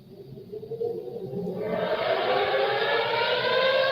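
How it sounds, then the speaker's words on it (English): A siren winds up from a low groan into a loud, sustained wail, sounding outdoors at some distance. "as you can hear, we have sirens"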